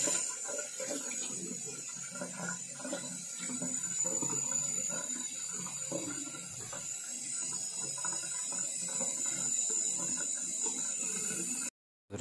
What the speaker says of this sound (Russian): Нужно будет ее смочить так, чтобы с нее не лилось.